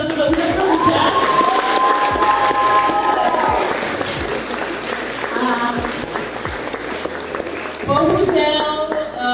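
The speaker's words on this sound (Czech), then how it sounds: "Zatleskejte si za tuto úžasnou účast." Audience at CreepyCon 2025 applauding after an auction, a broad burst of clapping and crowd noise under a loud amplified voice speaking, with a brief swell again at the end.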